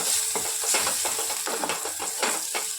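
Chicken 65 being stirred in a hot frying pan, with a continuous loud sizzle of oil broken by repeated scraping strokes of the spoon at a fairly regular rhythm, close and without talk.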